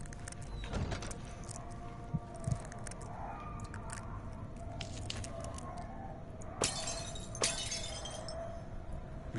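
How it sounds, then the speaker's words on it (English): Glass shatters in the horror video game Amnesia: a few sharp, bright crashes, one early and two later, break through a low, steady ambient drone, with no talking. "We just shatter glass where I know everything can hear me."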